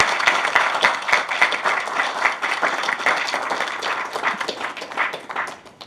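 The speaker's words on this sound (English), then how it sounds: "Let's give a round of applause." A wedding crowd claps together, a dense patter of many hands that holds steady for several seconds, then begins to thin and fade toward the end, close and lively with no speech over it.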